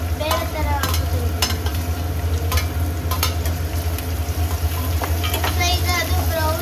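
Onions frying in a pan for raw mango chitranna, a continuous close sizzle with regular clinks and scrapes of stirring, over a low steady hum.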